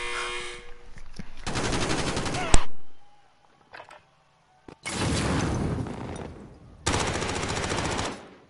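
Bursts of automatic gunfire from a gun in Call of Duty Modern Warfare, three long loud sustained volleys separated by brief pauses, with a sharp single crack near the end of the first burst.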